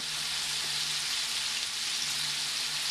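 Shrimp for tacos fry in a pan, giving a loud, continuous, even sizzle close up for the whole stretch, with no talking.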